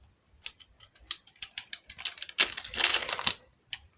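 A plastic fidget clacker toy clacks in a rapid series of sharp, dry clicks, speeding into a dense rattling burst before a single last click, close and fairly quiet.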